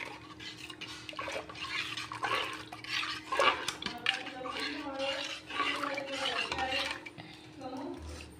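Crushed ajwain and ingredients for semolina papad dough get stirred in a bowl, with clinking and scraping of a spoon against the dish under continuous nearby talk.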